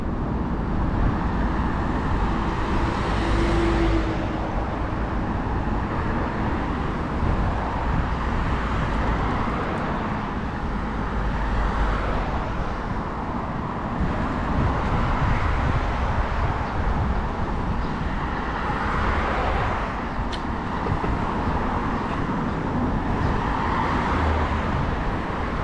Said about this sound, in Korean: 이 차들이 쌩쌩 다니는 게